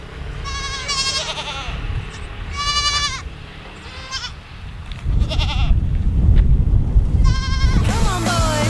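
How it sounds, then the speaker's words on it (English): Goats bleat repeatedly, several overlapping wavering calls at close range, over a rumbling background of wind or movement that grows louder toward the end. "You guys want to see some goats?"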